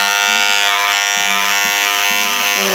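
Electric hair clippers buzz loudly and steadily at close range while trimming the back of a client's neck during a haircut, the tone dipping slightly as the blades press against skin.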